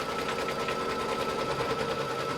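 A sewing machine stitches a tack-down line over glitter fabric for a mini quilt, a fast, even mechanical whir with rapid needle pulses running continuously and close.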